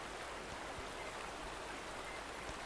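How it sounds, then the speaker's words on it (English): Water in the Far Cry Primal video game rushes and hisses in a continuous, even flow, steady and fairly close, with no voices. "I like that the water goes over your head here."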